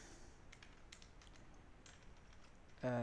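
Rapid keystrokes on a computer keyboard while entering a contact into a C address book program, a quiet run of light taps ending in a brief louder sound.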